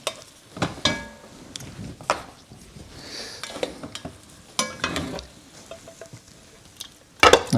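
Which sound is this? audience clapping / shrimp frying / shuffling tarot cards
shrimp frying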